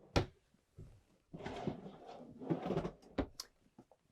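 Drawer in a Newmar Essex motorhome sliding open and shut, a sharp knock followed by a longer rolling run and a second slide, then small clicks, close and fairly loud with no talking.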